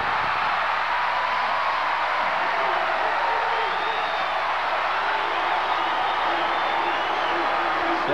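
Crowd noise from a women's volleyball match in a packed indoor arena: a continuous, fairly distant roar of cheering and whoops that swells slightly, with a commentator's voice on top.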